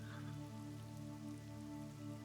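Storm rain in the video game LACUNA patters steadily on surfaces, blending with a sustained low background hum, unbroken and even from start to finish without any voices.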